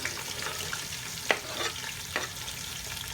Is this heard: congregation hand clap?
no